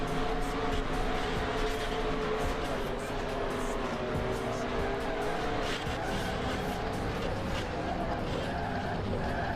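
NASCAR stock cars roar around Rockingham in NR2003, a constant loud engine drone with shifting pitch as cars run together on track, while a commentator talks over it.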